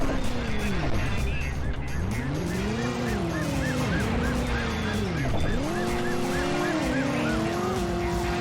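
A police car in the video game Driver: You Are the Wheelman wails with a rising and falling siren over revving engines and squealing tires during a chase, and voices talk underneath.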